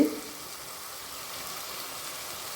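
Mutton sautéing in a pan, a steady close sizzle and hiss that stays even throughout the short stretch, with no voices.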